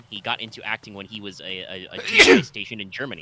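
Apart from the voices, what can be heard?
sneeze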